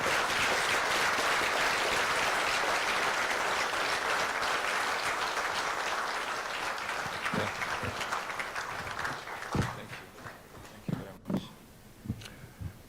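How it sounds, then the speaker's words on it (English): Applause at a book launch as a guest speaker walks up: a dense, sustained wash of clapping that slowly thins, leaving a few scattered individual claps at the end. "Let's give him a round of applause as he walks up."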